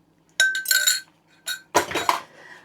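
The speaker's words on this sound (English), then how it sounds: "we're just going to pour it into the bowl" Cake batter for a pineapple sticky ginger cake is poured into a glass mixing bowl, with a few sharp clinks and scrapes of utensil against glass and quiet gaps between them.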